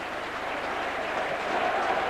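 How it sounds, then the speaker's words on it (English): Saints rugby league supporters clap at the bottom end of the ground at Featherstone during a cup tie, a steady dense crowd applause held at even loudness throughout. "The Saints faithful at the bottom end there, they applaud their favourites"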